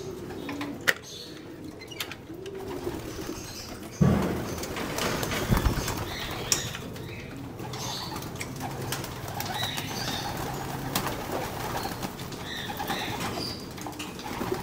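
Homing pigeons leave an open-air loft on an overcast morning, with a burst of wing flapping as they take off, soft cooing in the background, and light outdoor ambience throughout.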